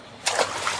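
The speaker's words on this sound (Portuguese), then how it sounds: "Joga uma pedra lá." Stone thrown into a lake in an animated scene, a single short splash that bursts in suddenly and then settles into a brief wash of sloshing water.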